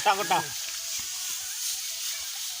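A whole large fish fries in hot oil, giving a continuous soft sizzle and hiss, with a brief voice at the very start.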